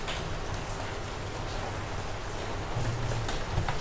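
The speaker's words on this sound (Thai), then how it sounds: "มาดูบรรยากาศวันนี้กรุงเทพฝนตกครับ" Steady midday rain falling in Bangkok, a soft even hiss of drops on surfaces heard from nearby, constant and unbroken, with no voices.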